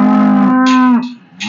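A cow on a cattle farm gives a loud, close, drawn-out moo, rising then falling away over about a second, followed by a brief shorter grunt, with no talking.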